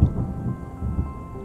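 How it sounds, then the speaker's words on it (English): Rain and rolling thunder in the video game Terra Nil, a low rumbling roar with steady hiss, moderately loud and continuous, no talk. "Here comes the rain."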